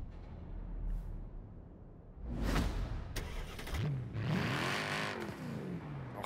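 Mercedes-Benz E63 S AMG with a 6.3 V8 in Forza Horizon 4, starting up and revving in short loud bursts with crackling, between quieter idle stretches.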